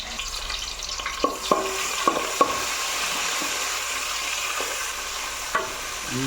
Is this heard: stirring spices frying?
yes